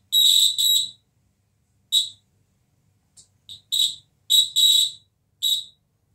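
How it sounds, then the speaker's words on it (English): A hand steadiness tester game's buzzer sounds in a run of short, shrill, electronic bursts. They come at uneven intervals, some in quick pairs, with silence between. "if you touch this, you see that the buzzer is hooting"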